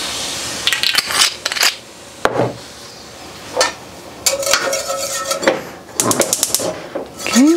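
A metal whisk scraping and clinking against a hot skillet, loosening browned bits from chicken after a cup of white wine is poured in, with irregular bursts of scraping and tapping separated by short pauses.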